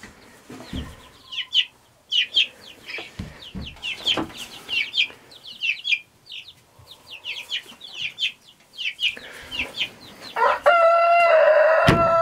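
Backyard chickens clucking repeatedly in short bursts near the microphone, with a rooster crowing toward the end, set outdoors around poultry waterers and feeders.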